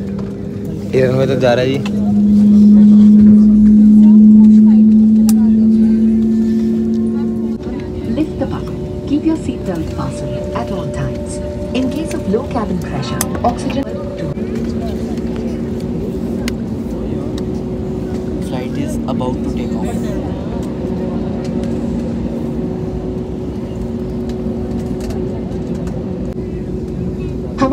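A passenger jet taxis on the runway at the start of a flight from Patna, heard from inside the cabin as a steady engine drone and rumble that swells early on, with people talking over it.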